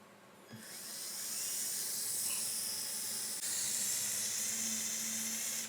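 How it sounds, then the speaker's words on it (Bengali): A Makita 12V cordless drill whirs with a steady, loud, hissing high-pitched grind while drilling a metal heatsink, starting abruptly and running without pause to the end. "তো আমরা এটাকে ড্রিল করার চেষ্টা করে দেখি যে কি হয়"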